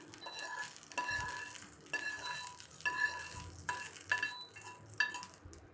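Hot tadka is poured into a mixed bowl and stirred, with repeated metallic spoon clinks against the bowl over a faint low sizzle, several sharp taps in an uneven rhythm, close and fairly quiet.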